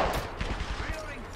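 Quick gunshots and scattered automatic fire snap in an Apex Legends Arenas ranked match, a brief close volley with a voice speaking over it.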